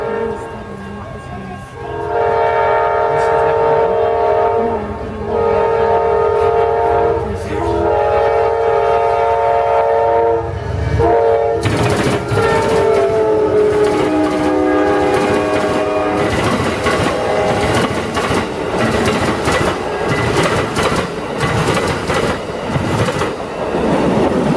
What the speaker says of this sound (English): here comes Amtrak train to Silver Star, number 92, to Tampa,